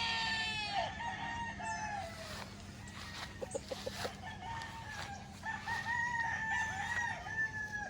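A rooster crows loudly nearby, two drawn-out calls separated by softer clucking and scattered knocks, with faint background hum.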